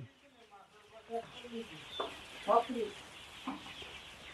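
Chickens cluck and murmur in scattered bursts, a few calls standing out louder against a quiet, steady background.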